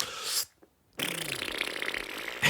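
A person vocally imitates a loud fart: a short raspy burst, a brief silence, then a longer, buzzing, sputtering blast that runs to the end.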